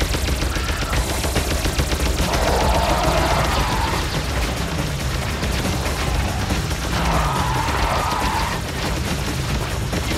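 Dense, loud gunfire from an Alien Shooter game, rapid machine-gun bursts with booming shots layered over a constant din, running without a break.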